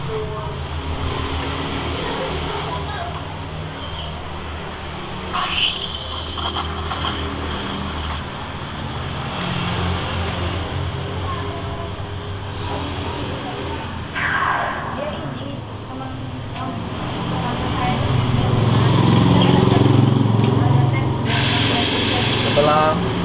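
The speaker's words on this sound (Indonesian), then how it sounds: "kita harus flashing dulu biar buat buang air yang ada di dalam mesin dulu" A home coffee bar espresso machine is flushed to purge water from the group head, giving bursts of hissing spray over a steady hum with people talking throughout, then a louder sustained hiss near the end.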